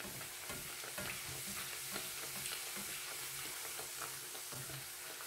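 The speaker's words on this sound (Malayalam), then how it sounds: "അത് പൊങ്ങി വരുന്നുണ്ട്. ഇനി കുറച്ച് എണ്ണ മുകളിലോട്ട് ഒഴിച്ച് കൊടുക്കുക." Spinach puri deep-frying in hot oil: a constant bubbling sizzle with fine crackling pops, soft and even throughout, with no one speaking.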